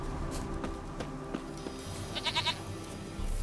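A goat bleats in The Witcher 3, a short wavering run of bleats near the middle over quiet ambient game sound.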